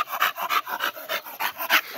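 An American Bully dog pants heavily right up close, quick rhythmic breaths repeating steadily with no talking over them.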